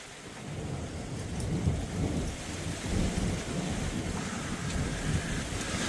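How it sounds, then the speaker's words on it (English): Steady rain pours down through a thunderstorm while low thunder rumbles roll underneath and gusts of wind rise and fall. "This may be the last lightning storm I get all friggin' year."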